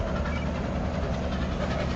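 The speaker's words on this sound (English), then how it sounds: "At 10 after 1, the 765 passes yet again on another run back to Enola." Nickel Plate Road 765, a steam locomotive on an excursion run, passes close by as a steady, loud roar of rolling noise.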